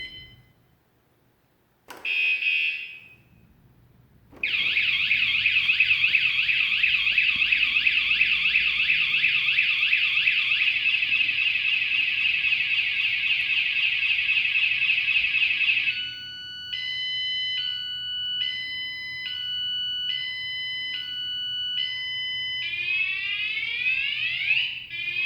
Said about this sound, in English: I know it's probably not the best alarm system